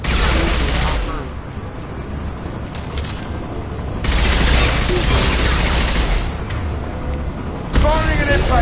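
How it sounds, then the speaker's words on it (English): Impact gun fire in the Mass Effect 2 Legendary Edition video game, with heavy booming volleys in loud sustained bursts, overlapping battle noise and voices talking. "Firing an impact gun!"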